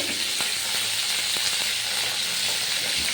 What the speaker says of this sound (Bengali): এই যে বিনসগুলোকে ভালো করে একটু ওই তেলেই ভালো করে নেড়ে নেব